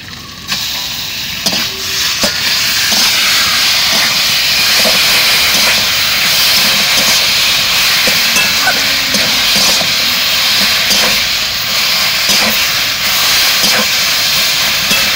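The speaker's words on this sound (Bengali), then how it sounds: "এবার কচু শাকটা যত সময় না হবে তত সময় এভাবে নাড়াচাড়া করবো" Boiled taro greens are stirred with crab in a pan, giving a loud, continuous steamy hiss and sizzle with faint scraping of the stirring throughout, and no voices.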